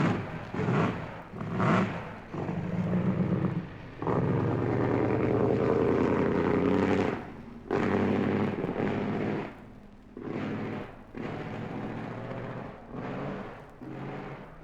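Peter Collins drives a 1958 Mercedes 5.6-litre racing car around dry Oulton Park before the race. Loud engine blasts rise and fall in repeated bursts as it accelerates, shifts and passes, with brief gaps between.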